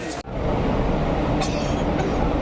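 The Pinakini Express departing platform 1, rumbling loudly and steadily close by, with wheel noise on the rails and brief high squeals as it moves off.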